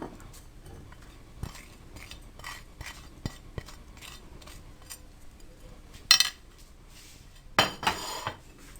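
A spoon clinks and scrapes against a bowl while mixing dry spices and garlic paste into yogurt, scattered sharp taps with a couple of louder scrapes near the end, quiet and close.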